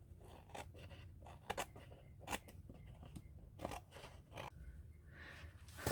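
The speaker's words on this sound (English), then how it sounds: "let's trim the edges off so we know what we're dealing with" Scissors snip repeatedly through the edges of a paper napkin at close range, crisp irregular cuts spread across the span with soft paper rustling between them, no talk.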